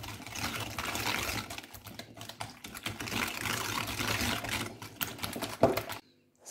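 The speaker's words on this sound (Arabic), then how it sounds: "غنزيد فيه السكر، وغادي نطربو غير بالفوي" Hand whisk beating sugar into eggs in a bowl, a busy, continuous clatter and scrape of wire against the bowl for about six seconds, then stopping abruptly.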